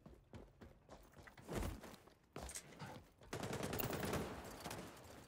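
Rapid bursts of gunfire in the Call of Duty video game, a rattling volley of shots followed by a denser sustained stretch of automatic fire, mid-distance and fairly faint, with no talk over it.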